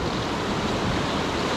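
Whitewater at Palmer Rapids rushes from a canoe's vantage, a dense, steady, close roar of churning water with no voices.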